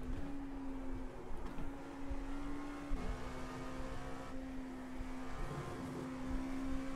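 Dallara LMP2 prototype race car in the iRacing simulator, its engine holding a steady high drone at speed through fast corners, with small pitch shifts as it lifts and reapplies throttle, continuous and close throughout.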